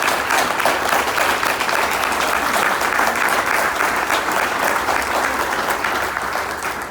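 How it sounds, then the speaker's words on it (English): A crowd at an anti-corruption campaign rally for Andy Kim breaks into loud, sustained applause, thick continuous clapping that stays even and strong throughout with no speech on top. "You all have applauded a lot."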